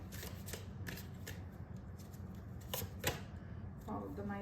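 Tarot cards are shuffled and handled as the next card is drawn, making close papery riffles and flicks with sharp bursts throughout, over a faint background hum.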